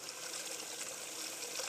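White wine and water pouring into a hot pan in a kitchen, a soft continuous trickling hiss lasting under two seconds, with no talking.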